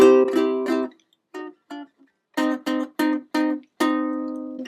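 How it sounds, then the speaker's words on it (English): A ukulele plucks a major chord several times, first in a quick cluster, then as single ringing plucks spaced apart, the last left to sustain. "pluck the 2 middle strings. So here's our major."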